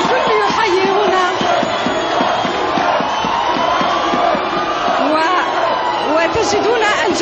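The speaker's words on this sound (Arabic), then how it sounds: "وتجدون الجماهير والشباب الذي يلحق بالحافلة وهو يهتف بحياة الجزائر وبحياة الفريق الوطني" A large crowd in Algiers cheers and chants for the Algerian national team as the team bus passes, loud and continuous, with shouts and whoops over a dense roar of voices.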